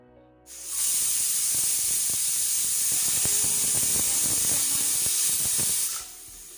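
A pressure cooker holding colocasia stems vents steam in one loud, continuous hiss lasting about five seconds, with faint rattling underneath, before it cuts off.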